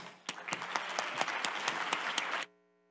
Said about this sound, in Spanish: Un aplauso para Verónica.